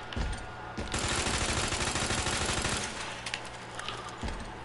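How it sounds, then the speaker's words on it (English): Sustained automatic machine-gun fire in the Resident Evil 2 video game: a loud, dense burst of rapid shots lasting a couple of seconds, then a few scattered single shots trailing off. "Maybe just unload like an entire entire round of the machine gun into his fucking face"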